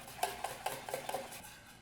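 A spoon scrapes and clinks around a dish while parsley is mixed in, with about six soft, evenly spaced strokes, quiet and close, and no talking.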